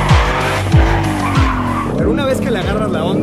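A Ford Shelby GT500 spins out with loud, sustained tire squeal and skidding over a roaring engine, rising and falling through the slide, while someone talks over it.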